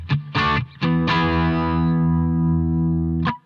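Electric guitar through a Fender Twin amp simulation plays a few short chords then a long ringing chord with a bright, chimy clean tone, close and alone.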